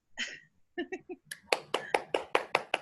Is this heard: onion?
no